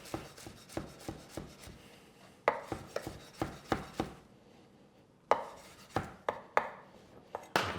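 A knife chops through a bunch of coriander leaves and stalks on a board: close, crisp rhythmic strokes in two bursts separated by a brief pause, with no talking.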